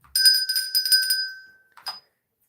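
A small hand bell tinkles in a quick run of bright, ringing strikes, rung close by as a celebration, then one last short ring after a pause.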